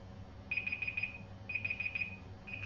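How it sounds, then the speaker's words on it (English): A timer alarm beeps in quick repeated bursts, rapid electronic pips grouped in clusters with short gaps, fairly soft against a quiet room. "Timer. There's a timer."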